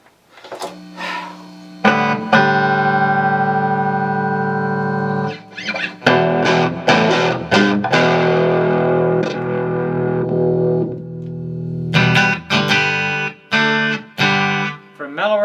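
An electric guitar, a Fender Player Series Stratocaster, plays through an amp at half gain with moderate overdrive, sustained chords ringing out then breaking into choppy strummed bursts, loud and close.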